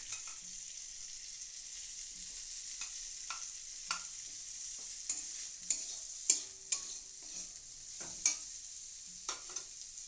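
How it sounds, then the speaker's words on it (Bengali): Prawns fry in a pan for homemade fried rice with a steady, quiet sizzle. A spatula stirs them with occasional sharp clicks and scrapes against the metal. "তারপরে দেওয়া হচ্ছে চিংড়ি মাছ"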